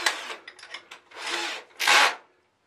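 A power drill with a large bit, run in reverse to countersink wood during a farmhouse renovation in central Portugal, whirs in several short bursts and then two longer, louder spins close by.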